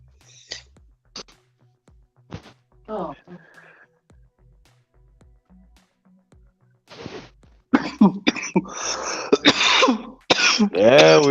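Scattered clicks and short bursts give way to a loud, close run of repeated harsh coughs and throat-clearing, growing more intense toward the end.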